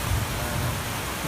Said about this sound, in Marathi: जोराचा पाऊस आहे।